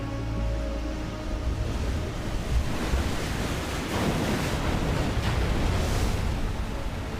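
Ocean waves at the Galápagos Islands wash in a continuous broadband roar, with surf building and breaking and some wind buffeting the microphone, loud and steady with no voices.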